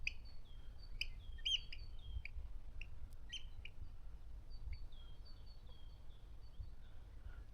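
Gulls over the Desna river give faint, scattered high calls, clustered early and again later, above a low steady outdoor rumble.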